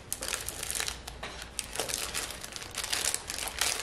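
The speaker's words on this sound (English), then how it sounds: "Take your marshmallow package, open the package." Crinkly plastic wrapper of a marshmallow package rustles and crackles steadily as it is pulled open up close, with no talking.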